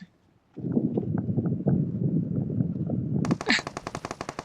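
Rapid automatic gunfire in the PUBG Mobile shooting game, a dense burst of shots that breaks into sharper, louder repeated cracks near the end, close and loud.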